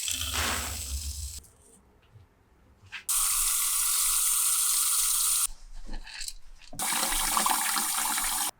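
Tap water runs over grain being rinsed for home malting, a steady hiss in two long loud stretches with a brief quieter gap between.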